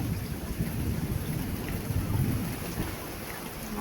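Heavy rain pours down steadily during a storm, a dense, loud, unbroken roar with a low rumbling undertone throughout.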